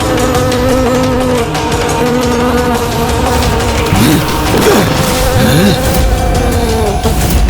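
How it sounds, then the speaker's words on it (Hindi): Dense, loud insect-like buzzing as a television sound effect, as if countless insects were droning together, sustained throughout with wavering whines rising and falling near the middle. "ये भिनभिनाहट जैसे असंख्य कीट एक साथ ध्वनि उत्पन्न कर रहे हैं"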